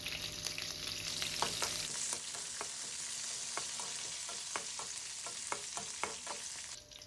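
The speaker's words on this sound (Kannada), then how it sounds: "ಇದನ್ನು ಲೋ ಫ್ಲೇಮಲ್ಲಿ ಫ್ರೈ ಮಾಡ್ಕೋತಾ ಇದ್ದೀನಿ" Mustard seeds, chana dal, green chilli and curry leaves crackle in oil over a low flame, giving a continuous soft sizzle and hiss broken by frequent sharp pops and light scraping as the mixture is stirred.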